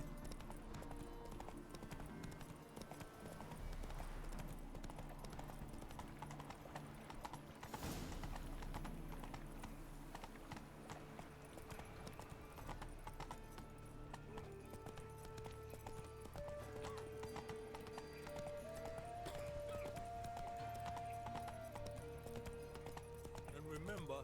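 A horse gallops in The Witcher 3 video game, its hooves making a fast, continuous clip-clop. A whinny comes in partway through, and a voice talks over the game's background ambience and music.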